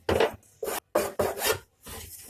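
Rough, rasping bursts of a multi-tool plunge-cutting a wooden loudspeaker back panel, four or five strokes in quick succession with short pauses between, close and loud.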